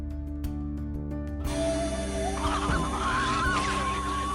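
Cartoon chickens from a My Little Pony storybook app, a burst of squawking and fluttering fowl calls rising over a steady background music bed after a short quiet intro.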